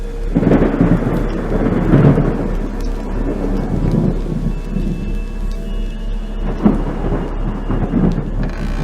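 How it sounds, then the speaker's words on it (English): Heavy rain pours down with deep rolling rumbles of thunder swelling and fading, loud and close, with no one speaking. "save me from this hellish downpour"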